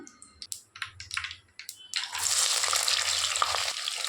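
Utensils clink briefly before shallots, garlic and curry leaves drop into hot oil with mustard and fenugreek seeds, bursting into a loud, continuous hiss that holds steady for the rest of the moment.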